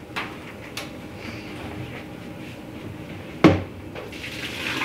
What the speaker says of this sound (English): just dumping these in the sink